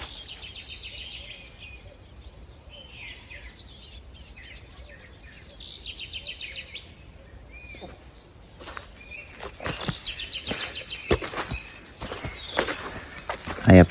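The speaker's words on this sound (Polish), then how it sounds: "No i słychać ptaszki." Birds sing over frosty spring meadows, with high chirps and trills repeating at moderate distance, followed by close crunching footsteps and rustling.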